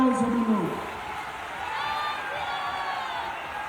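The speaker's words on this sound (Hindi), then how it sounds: "भाजपा के वरिष्ठ नेता भाई दिलीप घोष के लिए जोर से ताली बजाओ सभी लोग" A large crowd at a BJP election rally for candidate Dilip Ghosh in Bardhaman-Durgapur breaks into sustained, dense clapping and cheering after a brief voice at the start, a steady wash of applause.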